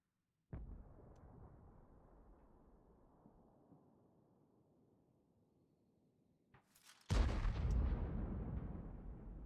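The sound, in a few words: incoming gunshot in a video game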